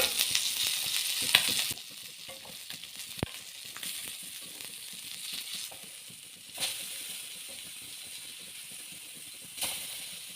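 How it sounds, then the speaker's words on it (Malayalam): Fish frying in a pan for a Kerala home-style lunch, a steady soft sizzle and hiss that runs throughout the clip, with a few brief louder crackles and spatters rising above the constant frying noise. "മീൻ പൊരിച്ചത് ഇതാ ഇടന്ന് റെഡി ആയിക്കൊണ്ട് നിൽക്കുന്നുണ്ട്"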